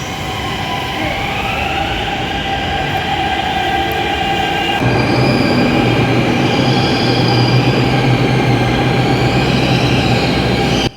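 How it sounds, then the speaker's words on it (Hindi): A Red Line metro train on the Delhi Metro pulls into a station with a loud, steady rail rumble and rising wheel squeal, growing heavier as it comes close. "सो गाइस फाइनली मेरी भी मेट्रो आ गई, शहीद स्थल वाली।"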